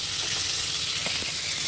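Spice masala frying with kochu ruti in a pan makes a constant, fairly loud hissing sizzle that holds steady throughout, with no talking.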